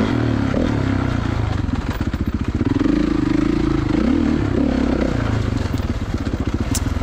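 A 2016 Kawasaki KX450 dirt bike laps a rough, bumpy turn track at Johns Peak OHV, its engine rapping and revving steadily with throttle rises and dips, close and loud throughout.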